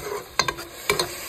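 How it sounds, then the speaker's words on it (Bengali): Food frying in hot oil in a pan, a close, continuous sizzle punctuated by a few sharp clacks of a stirring utensil against the pan, with no talking. "কিছুক্ষণ তেলের উপরে ভেজে নিই।"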